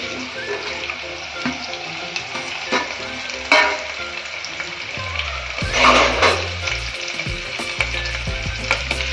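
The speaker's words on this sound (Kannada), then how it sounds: "ಮೀಡಿಯಂ ಫ್ಲೇಮಲ್ಲಿ ಹುರ್ಕೊಳ್ಳಿ ಚೆನ್ನಾಗಿ." Onion and curry leaves frying in oil on a medium flame, a steady close sizzle with scraping stirs and a louder burst of crackling partway through, alone without voices.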